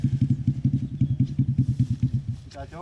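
A motorcycle engine pulses steadily and close on a rural road in Soppeng, South Sulawesi, with a brief clatter near the end.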